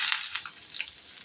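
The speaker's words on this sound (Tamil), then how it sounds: "இப்போ இந்த தண்ணியில் அப்படியே டிப் பண்ணிக்கணும்." Fish is dipped into water before frying, giving a close, continuous watery hiss and trickle with small splashy bursts throughout, no voices.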